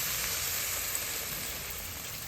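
Water hits a pan of sautéed vegetables for a Bengali fish and green papaya curry, setting off a loud, steady hiss of sizzling that fades slightly as it settles, with no talk.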